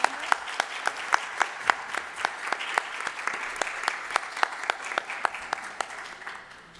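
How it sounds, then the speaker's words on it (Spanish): Applause for a round table panel at a medical congress session, with a few distinct sharp claps standing out near the microphone in a steady rhythm over softer clapping from the room, tapering off at the end. "Una vez más, un aplauso para toda la mesa redonda."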